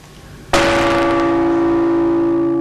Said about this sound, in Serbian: Iguman zvoni da sva Srbija čuje, a zvono je pomirenje sa Bogom, sa sobom.